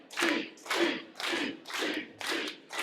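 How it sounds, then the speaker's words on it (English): Wrestling crowd at an ECCW show rallies behind Beef Boy, surging cheers and chants rising in five rhythmic waves, loud and close, with a steady crowd roar between bursts. "The crowd rallying behind Beef Boy."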